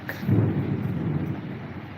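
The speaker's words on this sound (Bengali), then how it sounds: "এত পরিমাণ বিদ্যুৎ চমকাচ্ছে এত পরিমাণ ঝড় তুফান হচ্ছে যা বলার মতো না" A heavy thunderstorm sends a deep, loud rumble of thunder rolling over steady rain, close and dominant with no voices.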